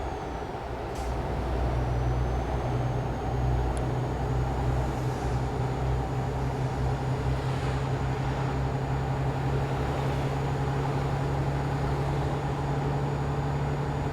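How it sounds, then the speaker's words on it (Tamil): Road traffic in Euro Truck Simulator 2 on a truck delivery run from Austria to Italy: a steady, loud, low engine drone that holds through the whole stretch, with vehicles passing close by. "பாருங்க, கொத்து கொத்தா வண்டி வந்துக்கிட்டே இருக்கு"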